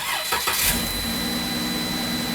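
A car engine cranks briefly and catches after a hidden kill switch is turned back on, then settles into a steady, fairly loud idle with a low rumble.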